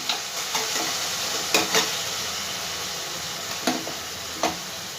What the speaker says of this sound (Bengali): ভালো করে এবার মশলাগুলোকে ভেজে নেব যতক্ষণ না মশলার থেকে তেলটা ছাড়ছে